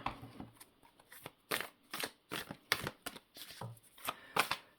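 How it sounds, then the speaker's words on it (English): An oversized deck of tarot cards is shuffled up close in a series of quick, crisp riffling bursts with short pauses between them. "I don't know why I try and shuffle these cards like that."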